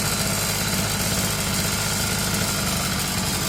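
A brush cutter engine runs steadily with a fitted replacement carburetor, a loud, close, continuous buzzing rattle with no pauses.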